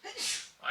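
Someone in a lecture audience at an economics seminar gives a single sharp sneeze, close and brief, with the speaker's voice heard around it.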